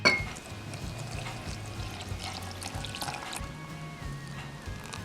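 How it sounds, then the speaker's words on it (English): Water is poured into plain flour in a tall glass, making a short bright trickle that gurgles into a soft, steady fill. It sounds close and fairly quiet, with no talking. "Pour the same amount of water in it."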